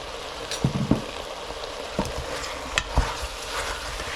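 Biryani masala powder being stirred into mushroom biryani in a pot: scattered scrapes and soft knocks of a spoon over a low, constant sizzle, with a few sharper taps spaced irregularly and no talking.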